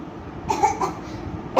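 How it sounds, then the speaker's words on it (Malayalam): A girl coughs a few times in short, muffled bursts, close by and fairly quiet, in a quiet indoor room. "എന്താടി ചുമക്കുന്നേ?"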